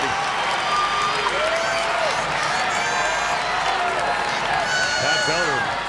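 Arena crowd at the 2023 NOBULL CrossFit Games during the men's Intervals test, a continuous loud roar of cheering, whooping and clapping, with an announcer's voice running over it.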